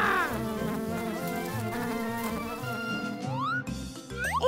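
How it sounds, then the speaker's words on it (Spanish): Insect buzzing for a children's animal-sounds vocabulary lesson: a sustained, steady buzz like a bee, played loud over a bright musical backing with whooshing sound effects, with no talking. "¡Abeja!"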